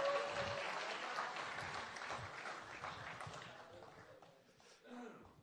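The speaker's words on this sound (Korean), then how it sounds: "박수 한번 보내주십시오." An audience at a Democratic Party political rally applauds, a broad wash of many hands that holds steady and then tapers off, with a voice and some crowd murmur blending in near the end.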